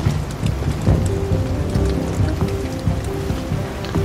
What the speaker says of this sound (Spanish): Sigue lloviendo, hermano.